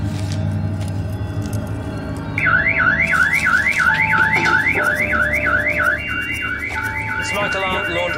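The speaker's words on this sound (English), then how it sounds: "Smoke alarm activated in the laundry." A smoke alarm goes off in the laundry of a naval patrol boat, a loud, rhythmic warbling electronic tone that begins partway in and repeats steadily over a low engine hum.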